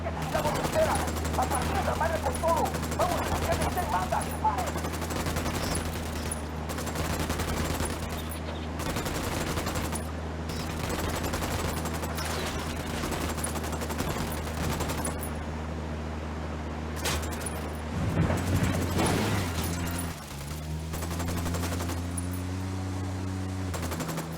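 Gunfire in a Ghost Recon Wildlands firefight rattles in repeated bursts over a steady low engine-like drone, with game voices and shouting mixed in.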